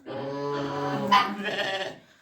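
A single sheep bleats nearby, a wavering nasal cry lasting about two seconds.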